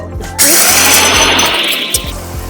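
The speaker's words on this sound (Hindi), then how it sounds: "इसी तरह अब हम खड़ा मसालों को पीसेंगे और गरम मसाला बनाएंगे।" Heavy-duty masala grinder machine grinding whole spices into garam masala powder, a loud steady whirring grind that rises sharply after a brief start and runs continuously with a rhythmic low thumping underneath.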